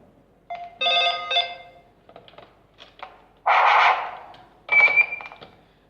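A Bpt Lithos intercom monitor rings in a pattern of electronic tone bursts separated by gaps, with button clicks between, loud and close in a quiet room.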